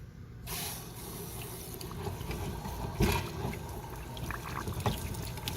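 Water streams out of an RV water heater as sediment is flushed, a steady, faint hiss and trickle with a few small knocks and splashes mixed in.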